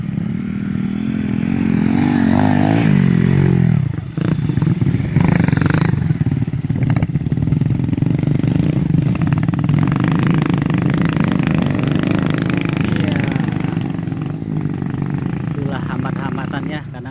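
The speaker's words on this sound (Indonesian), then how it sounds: "motor ojeknya muat sampai 2 sampai 3 karung menaik tanjakan" A motorcycle taxi engine labors and revs steadily while climbing a slope loaded with two to three sacks of grain in Cikarang, loud and close, with voices talking over the drone.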